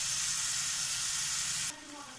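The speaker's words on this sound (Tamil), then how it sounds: "இப்போ இருந்த தக்காளி நல்லா வதங்கிடுச்சு." Tomatoes cook in a pan for mushroom biryani, a soft continuous sizzle and hiss close by that cuts down abruptly near the end, leaving a faint low murmur.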